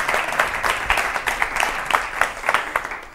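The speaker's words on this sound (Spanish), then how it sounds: "Así que gracias, Carmen, un aplausazo." An audience at a live event claps steadily, a dense patter of hands from a crowd filling the room, fairly close and sustained throughout without voices on top.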